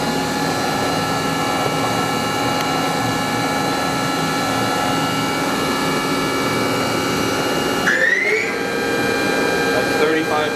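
A Mori Seiki MV653-50 vertical machining center spindle runs at speed, a steady tonal whine with layered harmonics and a brief pitch shift near the end, under steady machine noise.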